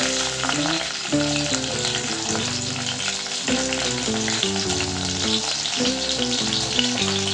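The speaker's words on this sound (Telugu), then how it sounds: "ఆయిల్ అయితే వేడెక్కింది ఆవాలు అట్లాగే పచ్చి వేసుకోవాలి" Mustard seeds sizzle in hot oil for semiya upma, a loud continuous frying hiss with crackle, alone and close, with faint background music under it.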